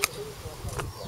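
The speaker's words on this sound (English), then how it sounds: "That was the sound of me crunching it." A bite into a raw purple haze carrot, purple outside and yellow inside, gives two short, sharp crunches close to the mic, about three-quarters of a second apart, over a faint low murmur.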